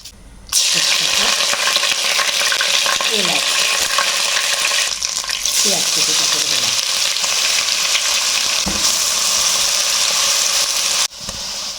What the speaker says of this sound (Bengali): তেল গরম হয়ে গেছে শুকনো লঙ্কা